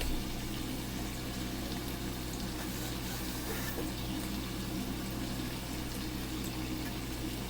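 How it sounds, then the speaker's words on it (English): Steady watery rushing and faint sizzling, a continuous pour of water into a hot stovetop pan of BBQ pork chops and sauce, with no talking. "I'm gonna put a little bit more water so the sauce doesn't start to stick."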